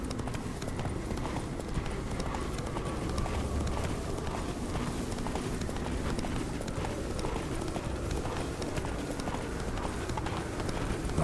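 The horse Roach gallops in The Witcher 3, steady rapid hoofbeats drumming continuously and loudly throughout with dense clip-clop rhythm, no voices.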